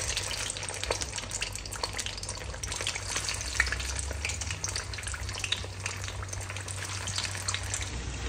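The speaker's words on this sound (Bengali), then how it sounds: "এখানে আমি তেল গরম করে নিছি, আর এই কাবাবটা ভাজার জন্য ডুবো তেল হলেই ভালো।" Tuna fish kebabs made from canned tuna deep fry in a pan of hot oil, giving a steady, even sizzle and crackle throughout with no talking.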